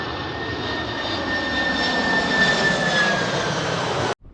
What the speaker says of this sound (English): the planes are coming in like right overhead.